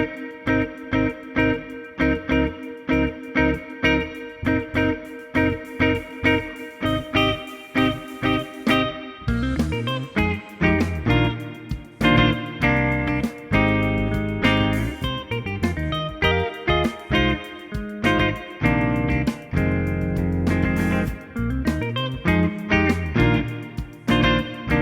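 A steady clean electric guitar with EMG Revelation pickups rings out alone, plucked chords and single notes in a continuous, moderately loud passage with a warm, clear tone.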